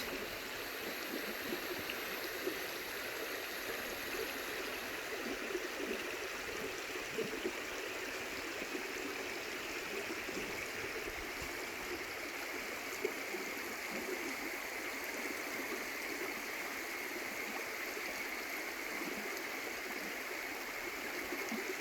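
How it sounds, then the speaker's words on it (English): Crooked Creek in Ouachita National Forest flows in a steady, gentle rush of water, continuous and moderately distant, with no voices. "We got the sound of the creek."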